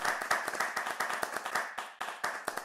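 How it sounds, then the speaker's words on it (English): A small audience clapping for debaters at a debate session, a sparse, uneven patter of individual hand claps, fairly close and moderately quiet, lasting a couple of seconds. "So give you guys a huge clap for being here and for debating."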